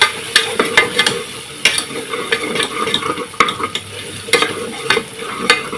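Chicken pulao ingredients browning with onions and coarsely ground garlic in a pressure cooker, with steady close sizzling broken by repeated scraping stir strokes of a spoon against the pot, without talk.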